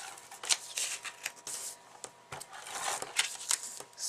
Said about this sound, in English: be careful that I don't tear that as I'm putting on my tape